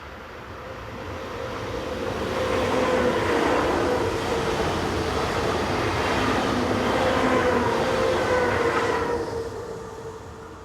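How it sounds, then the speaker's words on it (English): A Class 500 intercity unit on the Lausanne route heads east past the trackside, its loud roar swelling in, holding steady with rhythmic rail clatter, then easing away. "Class 500 intercity units operate through here on trains to and from Lausanne."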